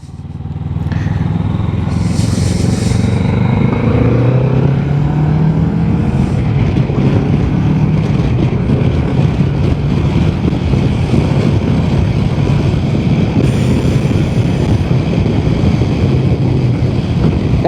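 A motorcycle rides on a Netherlands road into a strong headwind, with a small windscreen in front of the rider: a steady loud engine drone under constant roaring wind buffeting the microphone, with no talking.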